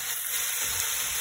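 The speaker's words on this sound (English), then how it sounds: "to let it fry, just continuing to like move it around as it's cooking." Pork frying in melted lard in a pot, a close, steady sizzle with faint stirring.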